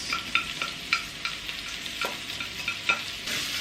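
Onions frying in a fair amount of hot oil, with a steady sizzle and repeated scraping stirs of a utensil, close up and with no talk.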